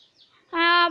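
A single short, loud call from a fan-tailed rooster bursts in after a faint moment of near silence, harsh and harmonic.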